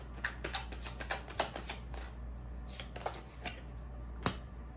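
Tarot cards shuffled close by in a quiet room, a run of soft crisp riffles and flicks in irregular bursts with one sharper snap near the end, and no voices.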